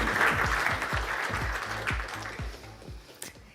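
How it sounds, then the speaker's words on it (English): An audience at a business conference session applauds as someone is called up on stage. The scattered claps are moderately loud at first and thin out over a few seconds, with a deep thudding beat underneath. "Round of applause, everyone."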